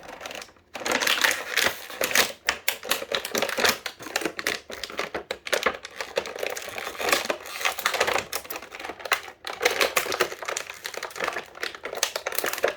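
A McFarlane Toys DC Multiverse Batman action figure with a cape is pulled out of plastic blister packaging. The stiff plastic crinkles, crackles and snaps continuously and loudly up close, with brief pauses and no talking.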